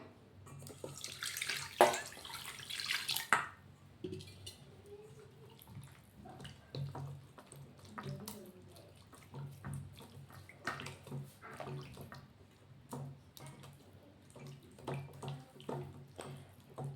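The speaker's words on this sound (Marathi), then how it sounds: "यामध्ये थंड पाणी टाकायचं।" Cold water poured into a pot holding homemade butter: a brief, fuller gush early on, then quiet sloshing, splashes and drips close by.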